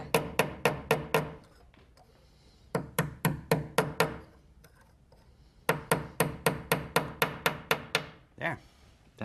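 Rapid bursts of small hammer taps on the metal prongs of a reticulated silver bolo tie come in three quick runs, each strike sharp and close, separated by short pauses with faint background sound.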